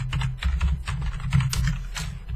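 Fingers tap quickly on a computer keyboard, a close, brisk run of light clicks in an irregular rhythm with no talking.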